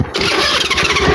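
A motorbike engine cranks and catches, a loud close burst of squealing starter and engine noise lasting about a second.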